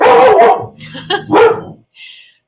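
A dog barks close by in a quick cluster of loud, sharp barks, followed by a short whine and then quiet.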